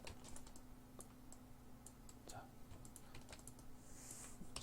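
Keys clicking steadily on a computer keyboard, fairly faint over a low constant hum.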